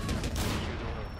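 Rapid gunfire in Rainbow Six Siege, a loud burst of several close shots that blur into one another over about a second.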